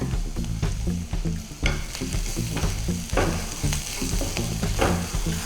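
Steady oil sizzle and crackle from curry leaves frying in a pan, with scattered sharp pops and occasional stirring scrapes throughout, no talking.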